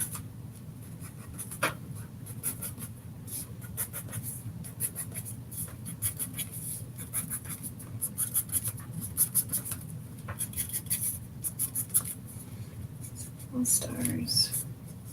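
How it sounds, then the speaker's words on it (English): A pen scratches across paper as small stars are drawn, close soft strokes in short irregular bursts with brief pauses, under a faint low hum and a few quiet breathy vocal sounds. "I'm going to draw some stars."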